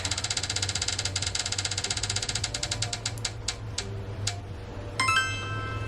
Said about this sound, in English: Let's go ahead and spin and see where we're going next